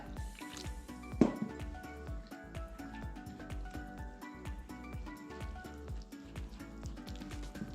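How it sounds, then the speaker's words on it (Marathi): Water drips and squishes into a thick cake premix batter with soft wet splashes and scraping, close by and quiet, without talking. "आता आपण ह्या प्रिमिक्समध्ये लागल तसं पाणी वाटणार आहे"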